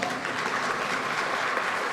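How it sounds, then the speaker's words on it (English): Audience applause during a panel discussion with First Lady Jill Biden in Ohio, a dense and steady clapping that fills the whole short stretch with no voices over it. "You may applaud on that."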